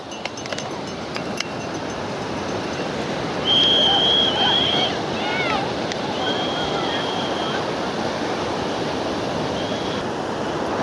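Water surging and rushing in, a broad steady wash of noise like surf with wind buffeting the microphone, plus a few brief tonal whistles partway through.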